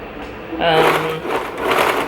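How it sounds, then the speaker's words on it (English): Serger sewing machine stitching down the edges of cotton cloth while making a burp cloth set, a steady close whirring run that comes in about halfway through, with a voice speaking over it. "the first thing I'm gonna do is serge down both edges to create that visual line or the seam in the cloth diaper"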